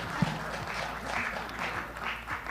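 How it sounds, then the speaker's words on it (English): Applause from an audience at a panel discussion, a continuous wash of clapping from a crowd, moderately loud and steady throughout the short stretch. "round of applause"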